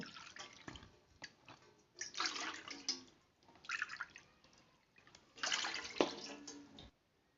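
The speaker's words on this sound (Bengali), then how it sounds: "এবার ওই পাত্রতে এই বাটি মেপে তিন বাটি জল দেব" Water being poured from a measuring bowl into a cooking pot, three separate pouring bursts of splashing, close and quiet, with short pauses between them.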